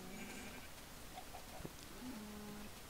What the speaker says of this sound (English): Sheep. Hello sheep.